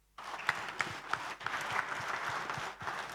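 An audience at a Women in Tech employee event at Telkom Hub in Jakarta breaks into steady, dense applause after a brief silence. Individual claps stand out now and then over about three seconds.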